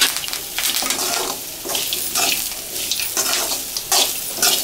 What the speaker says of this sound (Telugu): ఇది కలిపిన తర్వాత ఫ్రై చేసుకున్న పల్లీలని ఇందులో వేసి కలపాలి.